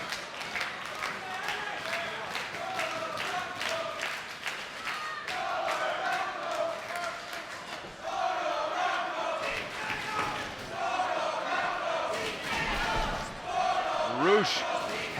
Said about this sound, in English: The crowd really responding to both men as Orion follows in.